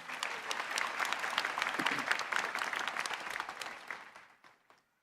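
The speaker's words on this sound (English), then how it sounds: "Please give them a round of applause again." Convocation audience at George Brown College applauding in a hall, a dense steady burst of clapping that holds for about four seconds and then fades away.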